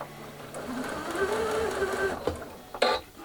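A Janome Atelier 7 (Skyline S7) sewing machine running a short stitch demonstration, a steady mechanical whir with a faint tone, then a couple of sharp clicks near the end, close up and without talk.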